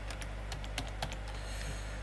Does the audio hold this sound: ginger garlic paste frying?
no